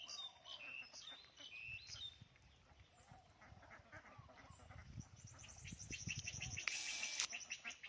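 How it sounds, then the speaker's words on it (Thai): Myna birds call repeatedly in chattering, honking bursts, some nearby and some farther off, with a sharp loud squawk toward the end. "ได้ยินเสียงนกเอี้ยงไหมคะทุกคน"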